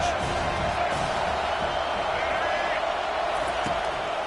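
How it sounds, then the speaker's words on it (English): A college football stadium crowd at an NCAA Division I game keeps up a dense, steady roar with scattered whoops, loud and continuous throughout. "this crowd is turning it up a notch."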